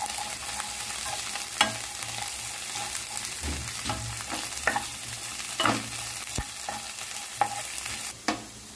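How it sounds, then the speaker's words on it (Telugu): Soaked green peas and sweet corn stirred in a pan for vegetable fried rice, with a soft continuous sizzle under intermittent scraping and clinking of a spatula against the pan, close and fairly quiet. "టేస్ట్ కోసం స్వీట్ కార్న్ కూడా వేసుకొని వేయించుకోవాలి"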